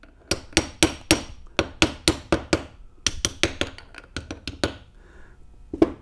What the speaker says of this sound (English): I'm going to just seat this with a hammer a little bit